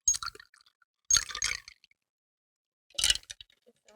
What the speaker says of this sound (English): It sounds like a commercial ad with the ice.